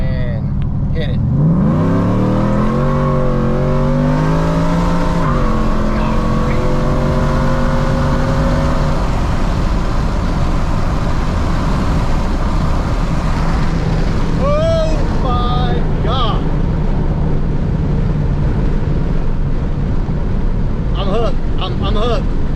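A supercharged Ford F-150 with over 750 hp and a VMP Odin blower accelerates hard, its exhaust roaring and climbing in pitch through the gears from inside the cab, with wind noise and someone talking over it.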